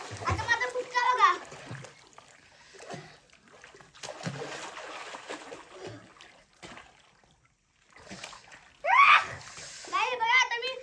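Village children splash water while swimming, with sharp splashes near the start and end. Kids chatter and shout over the splashing.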